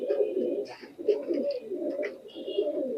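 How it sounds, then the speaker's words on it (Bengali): Pure Teddy bloodline pigeons, Pakistani high flyers, coo in a loft, a steady low rolling murmur of several birds with a few higher chirps over it, close by and continuous. "এটাও আমার পিওর টেডি ব্লাড লাইনের কবুতর"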